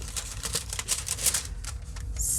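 Scissors snip across a small piece of paper for a collage pocket on a window envelope, making a quick run of close, crisp cuts and rustles.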